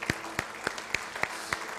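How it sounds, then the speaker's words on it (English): Sparse, scattered clapping from a few people at a wedding ceremony, about six or seven distinct claps spaced irregularly, fairly quiet and with no voices. "please, a big round of applause"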